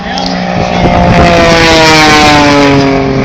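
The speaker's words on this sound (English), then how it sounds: "Super smooth running engine drives a German 3-bladed prop" At an airshow, an aerobatic airplane's smooth-running engine drives a German three-bladed propeller with a loud, continuous, steady drone full of tonal harmonics, close and sustained throughout.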